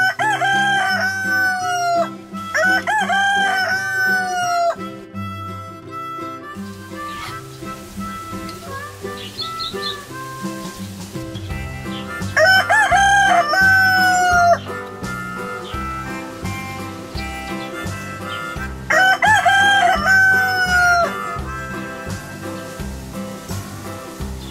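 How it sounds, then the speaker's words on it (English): A rooster crows loudly several times at intervals, each long call standing out over a steady background of music. "The chicken."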